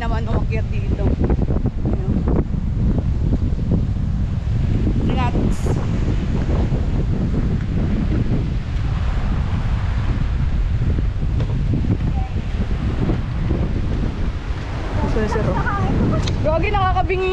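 Strong wind roars across a rocky coastline at Dingalan, Aurora Province, a loud steady buffeting rush on the microphone with faint surf beneath and a few brief voices breaking through.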